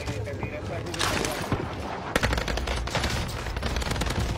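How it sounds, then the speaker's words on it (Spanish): Rapid bursts of video game gunfire, dense and loud, crackle throughout a live multiplayer battle royale match, with someone talking excitedly over the shooting. "Están disparando."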